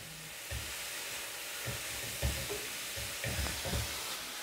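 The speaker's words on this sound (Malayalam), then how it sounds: "തേങ്ങയും ചേർത്ത് നന്നായിട്ടൊന്ന് ഇളക്കിയെടുക്കാം." Grated coconut being stirred into beetroot thoran in a hot pan, with a soft sizzle underneath repeated scraping strokes of the spoon, fairly faint and close.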